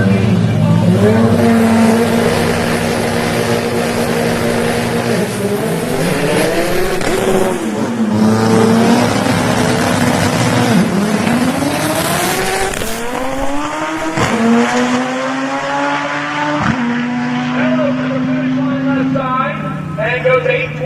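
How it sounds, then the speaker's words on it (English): Two 2000 model Honda Civic drag cars launch off the starting line with tire chatter, engines revving in repeated rising sweeps and shifts, loud and close, with a commentator talking over the racket. "A lot of tire chatter off the starting line, and it greatly affected their 60 foots in both cases."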